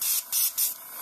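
Mud-spatter spray from an aerosol or spray gun hisses onto a car body in three short bursts, close and loud, with brief pauses between them.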